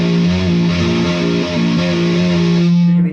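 Sloppy hammer-ons on a distorted electric guitar, loud and continuous, with ringing feedback and stray unwanted notes bleeding into the repeated pattern before it stops.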